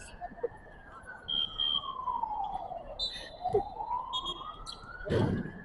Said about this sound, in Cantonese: 救護車嚟救佢哋。